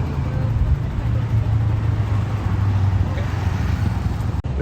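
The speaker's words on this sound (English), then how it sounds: "The just started one sounds like a two-stroke." A freshly started two-stroke 50cc quad bike engine idles in a low, steady droning hum, constant and fairly close with no revving.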